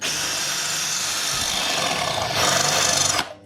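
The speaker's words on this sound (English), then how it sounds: "I need to drill these rivets out here that hold this plate on" A drill bores out rivets holding a plate on a Kawasaki VN900, a steady close grinding whir that grows slightly louder and harsher near the end before stopping abruptly.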